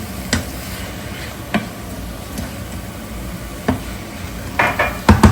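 Chicken fries in a pan under a low, steady sizzle, broken by sharp scrapes and clicks of a utensil stirring against the metal, growing busier toward the end.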